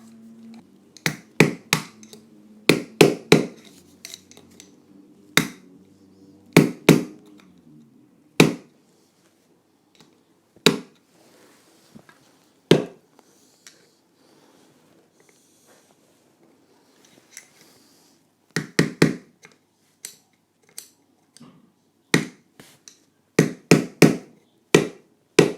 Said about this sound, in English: So I have to kind of hammer from that side to kind of go inside.